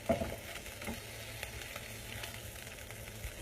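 Shrimp stir-fry sizzling in a pan, a continuous crackling hiss with a few scraping knocks, close and moderate in level, with no talking.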